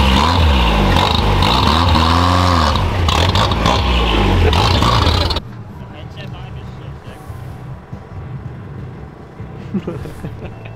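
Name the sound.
prerunner off-road truck engine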